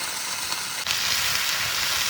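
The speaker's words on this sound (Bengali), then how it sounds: "ভালো করে কেন্দুলি ভেজে নেব।" Kenduli fried in a pan with salt and turmeric makes a steady, close hiss and crackle of sizzling oil, broken by one brief dip before it settles back to a continuous fry, with no talking.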